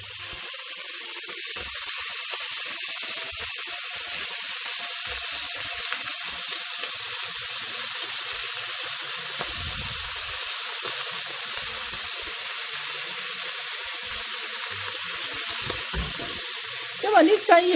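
Chicken wings, flipped golden side up, keep frying in a pan for soy sauce chicken, giving a continuous near sizzle with occasional light utensil knocks near the end.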